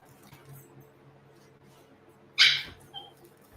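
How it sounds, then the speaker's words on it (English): Quiet room tone gives way to a sudden, sharp yip from a puppy, followed by a softer whimper a moment later. "You guys can probably hear the puppies in the background."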